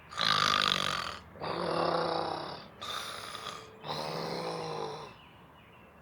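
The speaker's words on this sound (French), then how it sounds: "Au bout d'un moment, elle ronfle comme une tondeuse à gazon." A cartoon mole snores loudly in long, rasping, buzzy breaths, with about four snores separated by short pauses. The snoring is close and heard alone, without talk.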